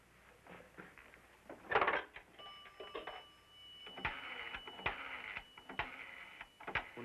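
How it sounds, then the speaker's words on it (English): A telephone rings a few times at low level in a quiet room. Short ring bursts are broken up by faint clicks and background noise. "When the phone rings, don't answer."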